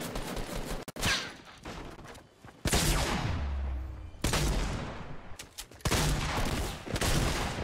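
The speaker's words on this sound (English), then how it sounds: "somebody just shot at me" Gunfire in Fortnite: loud bursts of rapid shots in several clusters, with brief gaps and quieter game ambience between them.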